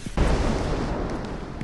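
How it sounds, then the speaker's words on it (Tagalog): Explosion in the video game Content Warning, a single sudden loud boom followed by a rumbling, decaying tail. "Na-record mo yung pagsabog?"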